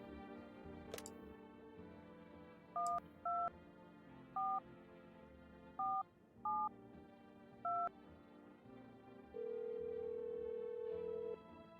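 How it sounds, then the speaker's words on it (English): Touch-tone keypad beeps dial a number in the horror game No, I'm Not a Human: seven short, evenly clipped tones over a faint background hum, then a steady ringback tone holds near the end, with no talk. "Let's do a phone call."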